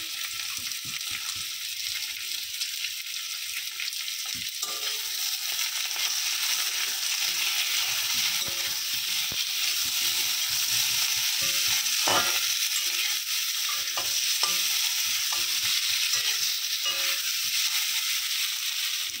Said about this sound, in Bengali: নুন আর হলুদ দিয়ে খুব ভালো করে ভেজে নিয়েছি